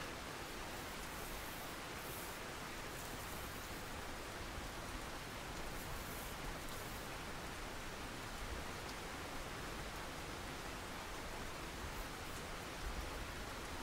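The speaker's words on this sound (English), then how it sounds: "Now we got a fairly good bit of rain falling." Rain falling in the Russian Fishing 4 video game, a steady, soft, even hiss of rainfall that holds throughout without change or voices.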